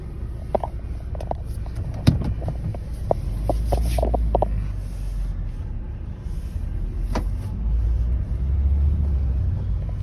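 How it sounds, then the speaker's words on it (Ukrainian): A 2012 Renault Scenic XMod with a 1.5 diesel of 81 kW, driving and picking up speed, heard from inside the cabin as a steady low engine and road rumble with a few faint clicks and knocks. "Їде, прикольно, набирає розгін."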